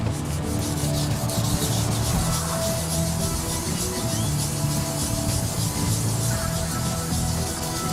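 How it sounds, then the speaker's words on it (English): Steady hand sanding of a deep scratch in car paint with 1000 grit sandpaper, a continuous close rubbing rasp with gentle back-and-forth pulses for the whole stretch, no voices. "I'm just going to try to sand off the paint on the surface"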